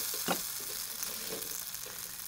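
Food sizzling steadily in a hot pan on a stovetop, a continuous close frying hiss with a brief scrape near the start and no talk.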